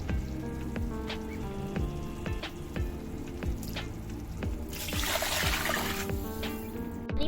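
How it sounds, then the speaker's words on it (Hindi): Water pours into a cooking pot of potato rice pulao, giving a continuous trickling, splashing wash with scattered drips and a faint sizzle. A heavier gush swells near the end, and no one speaks. "अब मैं इसमें डालूंगी पानी।"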